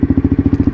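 A Lexmoto LXR SE motorcycle engine idles loud and close while being parked, a rapid, even low thumping pulse that beats steadily throughout.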